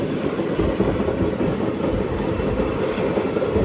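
A passenger train on the Rayagada to Koraput line runs along the rails through hilly country, a steady loud rumble with a dense clatter of wheels and no voices.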